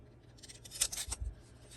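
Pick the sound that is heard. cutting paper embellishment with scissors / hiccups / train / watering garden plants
cutting paper embellishment with scissors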